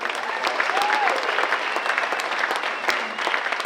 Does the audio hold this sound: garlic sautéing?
no